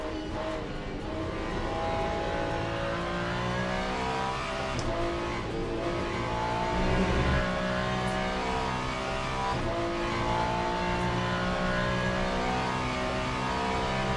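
A race car engine roars and revs continuously in the Le Mans Ultimate or iRacing driving sim, shifting pitch as it accelerates, loud and steady with no voices.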